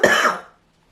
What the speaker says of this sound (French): Il faut que je tousse, je suis désolée.